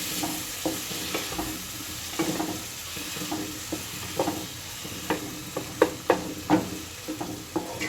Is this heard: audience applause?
no